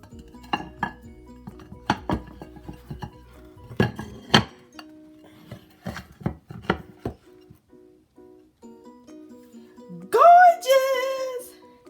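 A pineapple upside-down cake pan is handled and flipped onto a plate: scattered clinks and taps of metal and dishware, then a short louder clatter near the end with a voice reacting.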